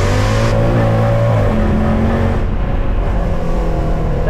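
Tuned Mercedes C63 AMG W204 V8 fitted with downpipes and secondary cat delete, mufflers retained, revs loudly and close, its deep engine note rising and falling continuously with no talking.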